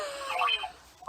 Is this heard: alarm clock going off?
yes